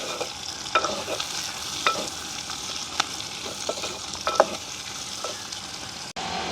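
Green chillies and onion are stir-fried in a pan for a village-style egg curry. A steady low sizzle runs under repeated clinks and scrapes of a spoon turning the food, and the sound ends in an abrupt cut near the end.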